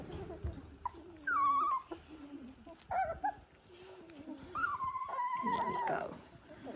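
Eighteen-day-old Dalmatian puppies whimper and yip in thin, high, wavering cries, several overlapping and rising at times, close by, with a person's voice faintly mixed in.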